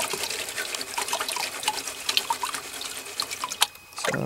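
Desert wash material is swirled and sloshed in water in a gold pan, giving a continuous close splashing and trickling with scattered gritty knocks, briefly quieting near the end before resuming.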